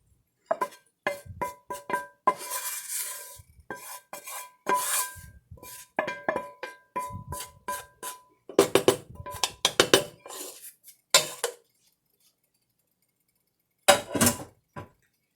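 A spoon scrapes and clinks against a pot while hamburger and rice are stirred together, a run of close, irregular metallic knocks and scrapes with short pauses and a final burst after a silence.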